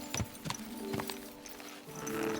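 Horse hooves clip-clop in Kingdom Come: Deliverance II near a forge, a few distinct close steps in quick succession over a low background hum, with a faint whinny-like tone and no speech.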